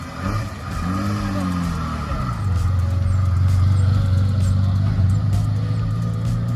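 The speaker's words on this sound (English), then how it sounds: "We have a car that's starting up. That's a vintage, beautiful car." A vintage Ferrari 275 GTB engine with six carburetors starts with a brief crank, then revs up and settles into a loud, throaty idle close by.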